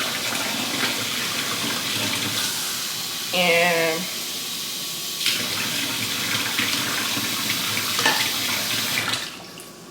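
Tap water pours steadily into a cooking pot in a home apartment kitchen, a continuous close splashing hiss filling the moment, with a brief voice heard once.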